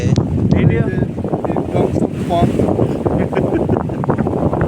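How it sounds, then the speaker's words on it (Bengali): Cool wind blows through a village ahead of rain, a loud, steady rush and rumble buffeting the microphone throughout, with a voice talking over it. "অনেক ঠান্ডা বাতাস"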